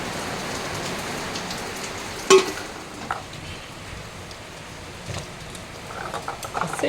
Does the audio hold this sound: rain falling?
yes